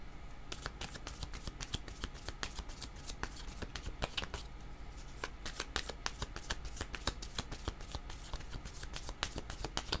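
Tarot cards being shuffled in soft, rapid riffles and flicks, a continuous dry papery patter that runs throughout, quiet and close with no talking.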